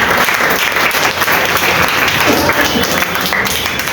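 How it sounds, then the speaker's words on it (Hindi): Loud, dense applause from an audience at an Independence Day celebration at Ayesha Institute in India, fills the room steadily without a break and without any talk over it. "एक बार जोरदार ताली इनके लिए।"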